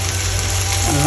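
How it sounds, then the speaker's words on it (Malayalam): Kashmiri chili powder stirred into masala frying in a pan for Kerala-style kappa biryani, a loud continuous sizzle with soft stirring scrapes. "നന്നായിട്ട് ഇളക്കി കൊടുക്കുക."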